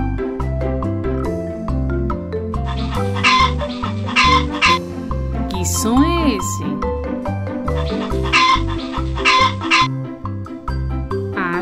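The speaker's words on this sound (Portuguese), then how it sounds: "É a galinha!" Chicken clucking from a farm-animal sound toy or clip, heard in short bursts over a loud, busy children's music track while a voice speaks briefly.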